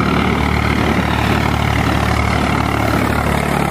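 A tractor engine runs on a hilly mountain road, a loud, continuous low rumble with a steady drone and no breaks.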